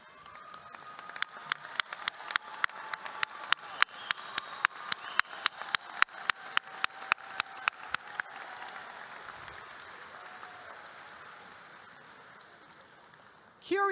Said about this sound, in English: Will you please stand so that we may applaud you?